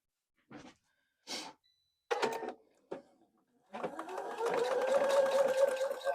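A sewing machine stitches 2.5-inch quilt fabric squares for a heart-patterned table runner. A few short separate bursts come first, then the machine runs in a steady, close, continuous whirring stretch.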